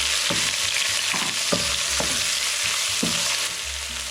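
Ginger garlic paste, onions and curry leaves fry in hot coconut oil, a constant loud sizzle broken by repeated scraping stirs of a spoon against the pan at an uneven rhythm.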